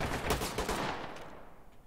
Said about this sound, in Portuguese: Deu tiro de armas barulhentas.